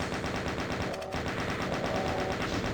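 Rapid rocket and gunfire blasts in the classic first-person shooter DOOM, a dense continuous barrage of explosive shots with game effects layered throughout.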